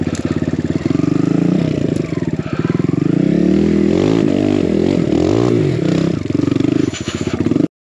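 Built Kawasaki KLX140 dirt bike revving hard on a steep extreme enduro climb, its engine loud and close with rising and falling revs, scrabbling tyre scrapes and clatter, then cutting off abruptly.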